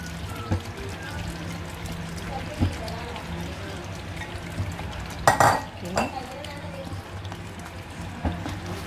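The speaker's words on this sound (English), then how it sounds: "now I'm going to add the fish" Crispy fried fish being added to simmering chili sambal in a pan, with a brief clatter and splash near the middle over a low sizzle, while a person talks throughout.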